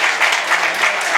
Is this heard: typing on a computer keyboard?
no